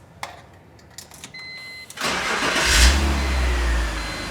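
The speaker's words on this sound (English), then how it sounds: "Now it's time to idle for 10 to 15 minutes." A BMW M3 engine dosed with Liqui Moly engine flush starts up after a few quiet clicks, then settles into a steady, close, rumbling idle that continues to the end.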